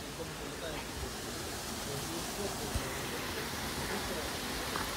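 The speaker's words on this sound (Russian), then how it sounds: "И слышно, как шумит вода." Rushing water from an underground river waterfall in a ravine, a steady, faint, broadband hiss with no distinct breaks, heard alone from some distance.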